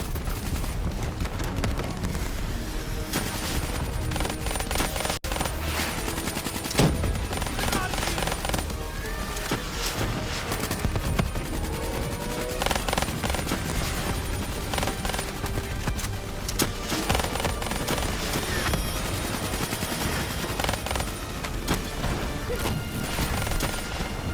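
Dense gunfire and explosions from a Call of Duty: Black Ops 3 campaign battle, continuous and loud throughout with bursts of automatic fire over game music and effects, while voices call out over the combat.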